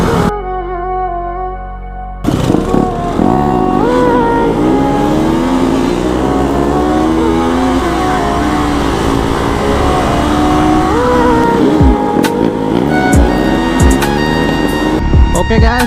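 A Royal Enfield Himalayan motorcycle with a seized, failing engine, ridden street-racing style, revving loudly and close with a pitch that repeatedly climbs and falls through the throttle.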